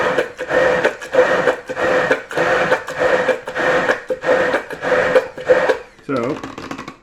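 Vegan mayonnaise being mixed in a bowl, a rhythmic scraping and whisking repeated in steady strokes, close and fairly loud, with a voice talking over it.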